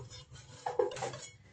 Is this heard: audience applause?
no